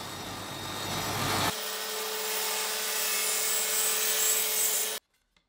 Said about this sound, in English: Here I'm passing an old hardwood draw front through the table saw to cut a spline